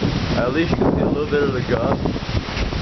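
Hurricane Isaac winds gust hard through trees outdoors, a loud, steady roar with heavy buffeting on the microphone under a voice.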